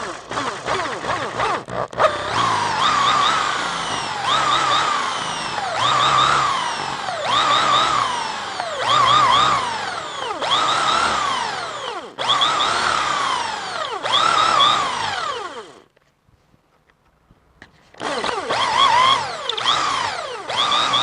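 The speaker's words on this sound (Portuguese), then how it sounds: "vou mostrar agora como é que a gente deve fazer um furo de grande profundidade" A portable electric drill bores a deep hole, its motor whine rising and falling in repeated cycles as the bit is worked in and out, then cutting off briefly before starting again.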